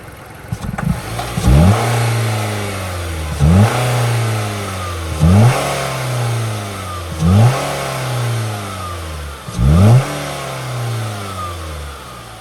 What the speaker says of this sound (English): rev it up a little bit here